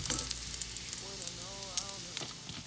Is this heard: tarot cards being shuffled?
no